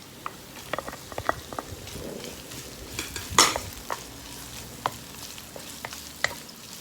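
Plenty of chopped garlic sautéing in a pan for escabeche, a steady soft sizzle and frying crackle with scattered clinks and scrapes of a stirring utensil close by, no voices.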